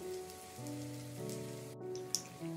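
Spinach leaves coated in batter deep fry in hot oil for chaat, giving a faint, continuous crackling sizzle that patters like light rain, with no one speaking.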